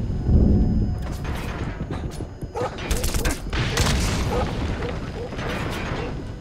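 Gunfire through a wall in Metal Gear Solid V: The Phantom Pain comes as clustered bursts of sharp cracks and thuds with mechanical clatter, loud and close, continuing in waves across the moment.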